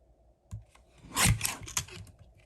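A paper trimmer cuts through cardstock in one short, close pass. A soft click comes first, then a brief rasping slide of the blade across the sheet.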